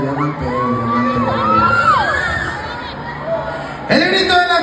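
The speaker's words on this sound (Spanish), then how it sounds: "¡El grito de la gente que anda bien pedo!" A rowdy, drunk crowd leaving a concert in Las Vegas shouts and whoops nearby, voices rising and sliding in loud overlapping yells with chatter underneath.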